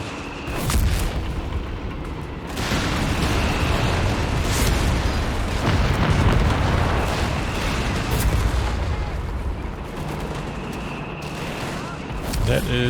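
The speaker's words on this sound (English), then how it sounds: "That is zeroing artillery, I believe." Zeroing artillery barrage in the Company of Heroes 3 video game, a dense, continuous roll of heavy booms and blasts that stays loud throughout, with sharper cracks standing out now and then.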